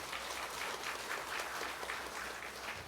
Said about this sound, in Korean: 한번 크게 박수하겠습니다.